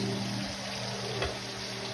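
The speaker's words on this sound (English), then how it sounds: "so that's been nicely sizzling for 4 minutes" A steady, low sizzle of chicken skin frying in a pan, continuous and fairly quiet with a faint background hum.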